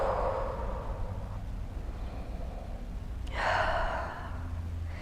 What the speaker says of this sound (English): In through the nose, slow on the exhale.